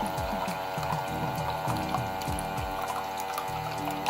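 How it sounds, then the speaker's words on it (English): A rechargeable electric water jug dispenser pump hums steadily while water pours and gurgles, with repeated rhythmic glugging pulses heard close up and no talking. "It does make a little bit of noise, but it's only for a short period while you're pouring the water."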